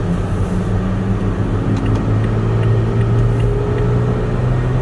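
A Toyota Tacoma pickup truck driving with light throttle, a steady low engine drone and road rumble from inside the cab, even and continuous with no talk.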